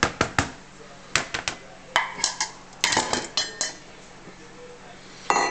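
Ingredients for spicy soft shell crab are tipped into a dish, bringing a series of sharp metallic clinks and taps, some in quick clusters, fairly close and spaced over a few seconds.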